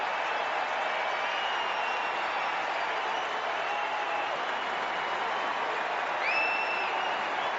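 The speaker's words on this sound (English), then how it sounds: "the sound from the crowd here is very pro-India" A cricket stadium crowd applauding a batsman's half-century for India, with sustained, dense clapping and crowd noise at an even level, a few whistles or shouts rising near the end, and no commentary over it.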